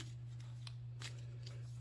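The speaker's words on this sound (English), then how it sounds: "and then I'm shuffling once more" Tarot cards are shuffled by hand in a few quiet, soft riffling bursts over a low steady hum.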